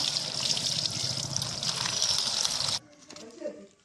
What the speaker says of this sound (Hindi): धनिया पत्र पालंग साग को भल भाग में धोई दबा।